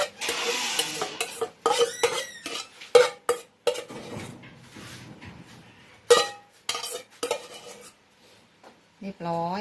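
Spicy instant noodle salad with glass noodles being tossed and mixed in a dish, with repeated clinks and scrapes of utensils against the plate in short bursts, close and clear, while a voice speaks briefly near the end.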